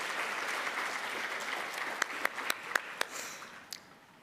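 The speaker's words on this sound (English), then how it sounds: "So I want to give you all another round of applause just for all the work that you do every day and for being present." A college convocation crowd applauds, a soft even rumble of clapping with several loud, close individual claps standing out in a short burst near the middle before fading.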